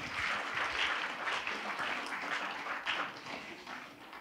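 An audience claps at a regional awards ceremony in South Korea, with a steady, moderately distant patter of applause that runs throughout without pause.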